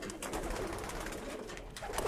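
Tippler pigeons in a loft coo and murmur continuously, a soft overlapping bird chatter with faint rustling, moderately near and fairly quiet.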